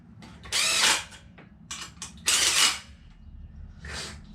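A ratchet wrench tightens bolts on the accessory drive of a 427 cubic inch LSX engine, clicking in three close bursts separated by short pauses, with no talking.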